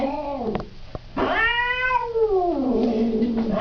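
A cat at the vet yowls and growls angrily, with one long rising and falling caterwaul following shorter grumbling cries, loud and close, with no talking.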